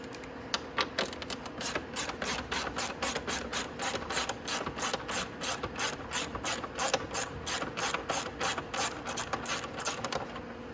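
A ratchet wrench clicks rapidly and steadily, loosening a 10 mm bolt on a Venom X20 125cc motorcycle during an ignition change, in a continuous close run of sharp ratcheting with no talk.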